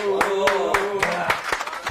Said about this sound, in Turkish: Efendim şu anda izleyicilerimiz de sizi alkışlıyorlar